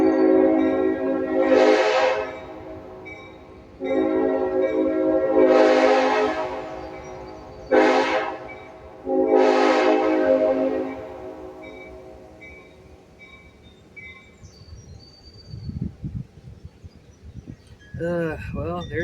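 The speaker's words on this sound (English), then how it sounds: "Well, there's the tourist train." A tourist train's horn sounds in four long blasts as it passes, the third one short, loud and fairly near, followed by quieter rumbling and faint chatter.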